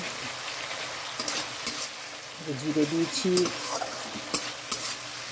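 A pan of fish cooked with tomato, cumin, ginger and garlic paste and a little mustard sizzles steadily while being stirred, with a spatula clinking now and then and someone talking briefly over it.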